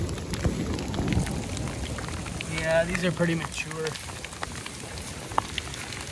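Steady rain patters on the forest canopy and ground during a morel mushroom hunt in Manitoba, Canada, with someone talking over it.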